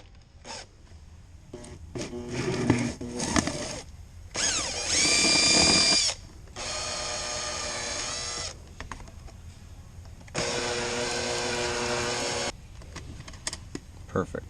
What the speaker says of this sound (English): drill the hole and go from there.